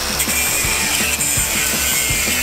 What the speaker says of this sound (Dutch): Ik denk dat we deze koker er maar even uit gaan slijpen.